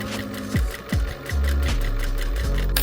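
A sewing machine stitches bias tape onto a skirt in short loud bursts, the motor whirring up and slowing several times before settling into a steady run, close and without talk.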